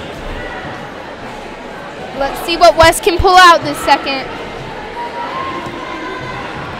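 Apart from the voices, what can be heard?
Vista Ridge girls cheering at a volleyball game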